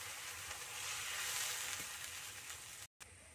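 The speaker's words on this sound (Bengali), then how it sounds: "এখানে জলটা ফুটছে" A pan of water with chili flakes bubbles and sizzles steadily on the stove, a close continuous fizzing hiss with no voices, cut by a brief silent gap near the end.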